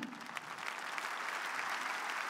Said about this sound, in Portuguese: Vamos dar a Deus uma salva de palmas.